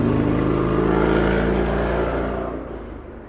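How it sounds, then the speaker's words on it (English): A motorcycle engine roars loud and close, holding a strong revving drone for about two seconds before easing off and fading as it pulls away. "it sounds like the motorcycle's trying to drown him out"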